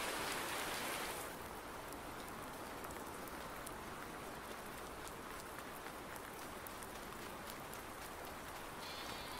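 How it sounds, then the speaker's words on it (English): Rain sets in during the Fenton Forest game, a dense, even hiss of falling drops that holds steady and fairly loud without a break. "Yep, here comes the rain"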